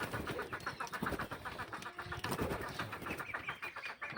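Native desi chickens step out of a handmade bamboo coop, giving a steady, busy stream of clucks and soft calls with some fluttering, fairly close and continuous, with no talking.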